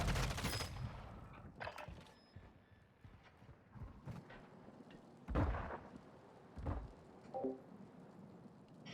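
Video game gunfire comes as scattered, sharp shots and short bursts, some louder and nearer, others faint, spread irregularly with quiet gaps between them.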